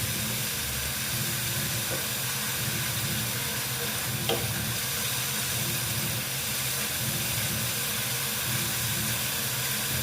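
Kashmiri red chilli powder sizzling in hot oil while being stirred in a pan for a vegetarian chayote squash and potato curry, a steady close frying hiss with an occasional scrape of the spoon.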